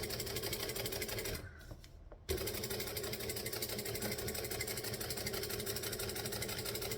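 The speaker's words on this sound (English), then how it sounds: "we're going to stitch on the fabric part" A sewing machine stitches a vinyl-and-fabric panel at a steady, fast whirring pace. It stops briefly for a second near the start, then resumes and runs evenly to the end.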